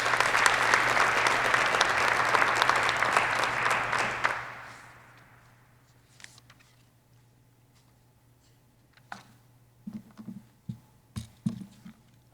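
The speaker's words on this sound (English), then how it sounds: "please join me in a round of applause for Colonel McHugh" Audience at an induction ceremony claps loudly in a dense burst for about four seconds, then the applause fades out into near quiet with a few scattered knocks and thumps.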